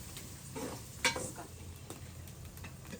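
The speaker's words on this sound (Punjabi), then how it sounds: "ਪਿਆਜ਼ ਜਿਹੜਾ ਨਾ ਫਰਾਈ ਹੋ ਜਾਵੇ" Onions frying in a pan in a village kitchen, giving a steady low sizzle broken by a few stirring scrapes and one sharp utensil clack, heard close with no talk.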